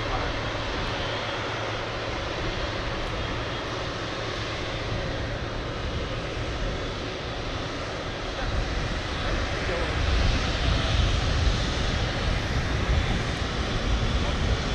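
Broad, rushing engine roar from a Qatar Airways Boeing 777 at Manchester Airport, steady at first and then swelling louder toward the end as the jet draws nearer, with a voice talking over it.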